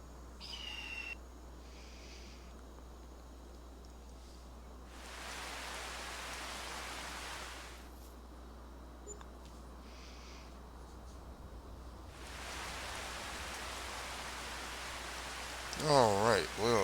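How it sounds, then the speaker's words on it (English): Video game rain in Farming Simulator 25 hisses in bursts, swelling and fading over a low steady hum, with a few faint electronic blips near the end. "Alright, well it's raining and we have a tornado."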